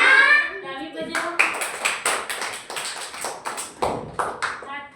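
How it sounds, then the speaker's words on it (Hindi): Children clap their hands in a classroom activity, a brisk run of uneven claps following a short spoken voice. "ताली बजाओ"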